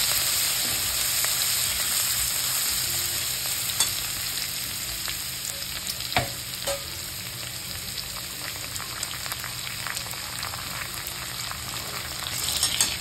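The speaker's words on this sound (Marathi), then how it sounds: "आणि कढीपत्ता घालायचा। मस्त मिक्स करून घ्यायचं।" Curry leaves sizzling in hot oil in a pan for kurdai bhaji, a continuous dense crackle with occasional sharp pops and the light scrape of stirring, close and steady, with no voices.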